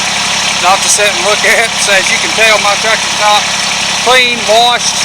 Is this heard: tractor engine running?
yes